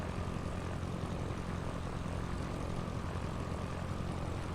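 Propeller aircraft engine in the Pro Pilot '99 flight simulator game, a steady unbroken drone that holds loud and even throughout with no voices.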